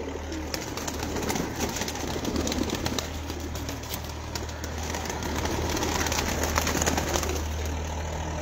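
Pigeons coo steadily in low, rolling calls over a constant background hum, with occasional flutters and clicks nearby.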